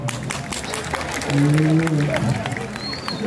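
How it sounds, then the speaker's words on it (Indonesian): An audience at a Balinese Calonarang performance breaks into a short burst of clapping, with crowd voices mixed in beneath the applause. "Tepuk tangan semuanya"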